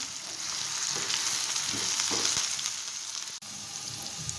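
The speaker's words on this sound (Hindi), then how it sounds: "तो इनको और आलूओं को हम थोड़ी देर के लिए भून लेते हैं।" Peas and potatoes sizzle steadily in a hot pan, a loud continuous fry with brief stirring scrapes and one short break near the end.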